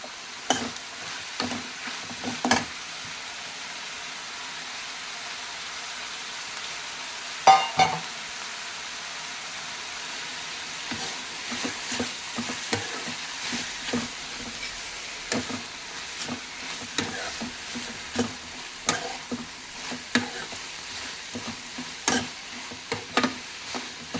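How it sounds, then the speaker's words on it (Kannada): Eggplant frying in a pan with tomato for vangi bath, a steady low sizzle under repeated clicks and scrapes of stirring throughout, fairly close and moderately quiet, with no talking. "ಈಗ ಅದಕ್ಕೆ ಬದನೆಕಾಯಿ ಹಾಕ್ತದೆ ಈಗ ಫ್ರೈ ಮಾಡಿ"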